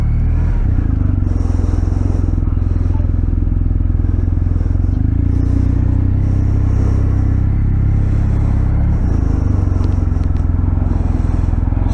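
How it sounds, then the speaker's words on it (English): BMW R1250R motorcycle with a boxer engine on a ride, a loud, steady low rumble with continuous engine drone and wind, close and unbroken throughout. "I can feel the boxer engine kicking side to side."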